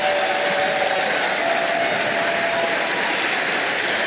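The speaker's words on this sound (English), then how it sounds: "a huge crowd here tonight in Green Bay shows its appreciation" A large crowd applauds steadily at a women's professional bowling step ladder final in Green Bay, dense continuous clapping that fills the whole stretch with no talk over it.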